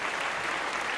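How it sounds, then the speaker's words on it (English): Short burst of applause from an online meeting audience, a dense, even patter of many hands clapping, loud and uninterrupted for about a second. "A little round of applause for you."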